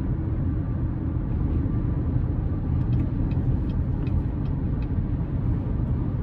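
Inside a 2024 GMC Terrain AT4 AWD with a 1.5-liter turbo engine, a low, steady road and engine rumble fills the cabin at highway speed, continuous and even with no voices.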